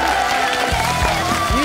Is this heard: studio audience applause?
yes